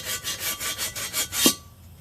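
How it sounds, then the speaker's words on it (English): An aluminum wheel rim is hand-sanded with 80 grit sandpaper, producing rapid back-and-forth rasping strokes in a quick even rhythm, close and fairly loud, ending with a sharper scrape and then quiet. "I just want to polish it up before I go with the next 80 grit sandpaper and on and on"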